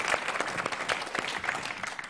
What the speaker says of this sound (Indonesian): Tepuk tangan dulu dong buat Bang Mudi.